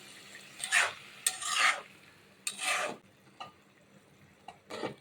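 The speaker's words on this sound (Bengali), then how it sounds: "নাড়াচাড়া করে মিশিয়ে নিব," A curry of jackfruit seeds and teasel gourd is stirred in a pan, making several short, scraping, sizzling strokes separated by brief pauses, close and clear.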